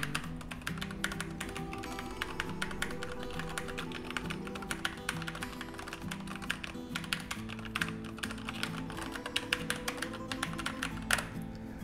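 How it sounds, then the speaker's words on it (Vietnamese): Rapid, continuous typing on a Keychron K8 Bluetooth mechanical keyboard, close-up and clear, a dense stream of crisp key clicks and clacks with no talking. "Thì đấy là tiếng gõ phím ở trên K8."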